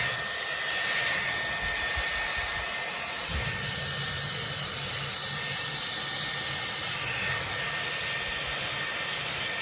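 A Dyson Airwrap hair styler blows warm air while curling hair, giving a continuous, even hiss of rushing air with slight shifts in tone as it moves, close and steady throughout, no talking.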